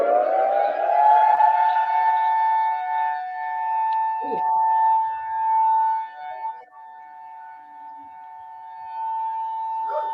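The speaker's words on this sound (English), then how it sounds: "this is an example of what the siren sounds like on Maui." Civil defense warning siren on Maui, a loud steady wailing tone held across the whole stretch with a slight rise at the start, heard alone without talk.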